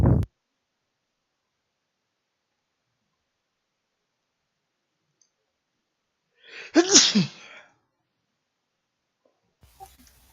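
A single human sneeze bursts out near the middle, close and fairly loud, in an otherwise near-silent indoor moment, preceded by a brief faint noise at the start.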